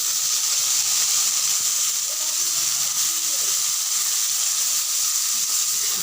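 Bitter greens dropped into a hot pan after eggplant has been fried, giving off a steady, loud, hissing sizzle that holds evenly throughout.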